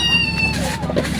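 Cat meowing loudly and close in a rural home kitchen, one short drawn-out meow under a brief bit of speech and kitchen background noise.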